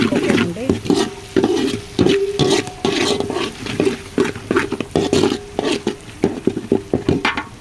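Tomato curry with ingredients such as ginger-garlic paste fries in a pan while a spoon stirs it, giving steady repeated scraping strokes over a continuous close sizzle.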